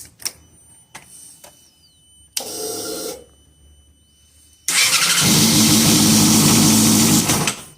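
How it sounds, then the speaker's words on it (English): A Yamaha R6 sport motorcycle with its voltage regulator unplugged gives a few short clicks, a brief starter crank, then catches and fires into a loud, steady idle that runs to the end, no voices present. "unplug the voltage regulator, and it should crank right up with no issue"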